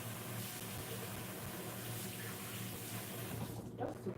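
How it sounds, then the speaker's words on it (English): Cold water poured into a cooking pot to cool it off in a home kitchen, a steady rushing, splashing stream running continuously and fairly close, easing off at the very end, with no talking. "I need to also pour a cold water to it."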